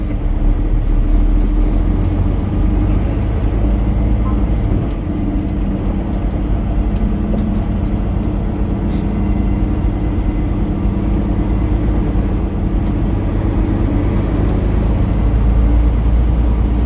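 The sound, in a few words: semi truck maneuvering around in parking lot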